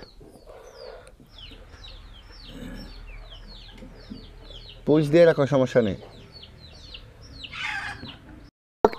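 Chickens cluck on a small poultry farm, a loud burst of calls rising midway, while a person talks over the flock.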